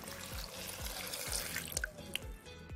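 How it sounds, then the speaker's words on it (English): Half a cup of water is poured onto cut guava ahead of blending, heard as a close splashing flow with a steady rhythmic thumping underneath and a few sharp clinks near the end. "So I'm adding half cup of water."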